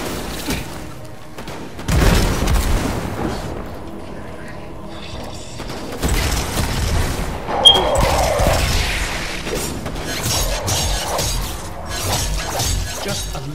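A large explosion in the video game Destiny 2, with shattering, crashing debris and booming impacts rolling on over game noise, plus intermittent talk.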